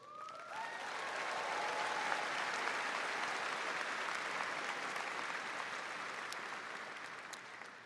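A large audience at a high school graduation ceremony breaks into sustained applause, a dense roar of clapping that swells quickly and holds steady with no clear speech.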